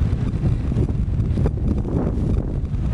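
Strong wind blowing steadily across an open outdoor spot in northern Delaware in late winter, a loud, continuous broadband roar buffeting the microphone with gusty swells throughout, no voices.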